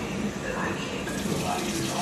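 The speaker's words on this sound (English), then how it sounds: "And then you just fill it up with cold water." Cold tap water runs steadily into a container at home, a continuous close hiss and splash without a break.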